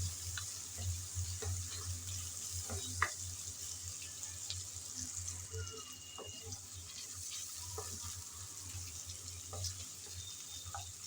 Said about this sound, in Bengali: কিছুক্ষণ নেড়ে চেড়ে ভেজে নিলাম